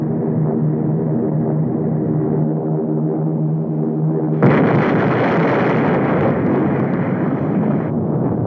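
A steady droning hum suddenly gives way to a loud, sustained roaring blast as bombs dropped from aircraft explode on an invasion of the USA, and the rumble holds for several seconds.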